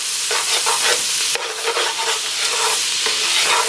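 Garlic and onions sizzle in olive oil in a pan while a spoon stirs them, a loud continuous frying hiss broken by repeated scraping strokes, alone with no talk.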